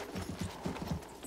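Horse hooves clop in the Battlefield 1 campaign, a quick brief run of rhythmic thudding steps, close and fairly soft, heard on their own.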